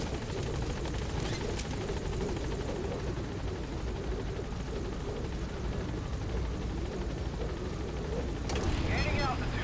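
The Pequod helicopter in Metal Gear Solid V: The Phantom Pain climbs away with a steady, loud rotor and turbine drone, rising slightly near the end.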